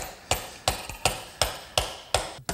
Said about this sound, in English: It's going to be a little snug, so I'm going to use a mallet to.